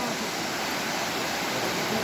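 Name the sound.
river water flowing fast past Garjiya temple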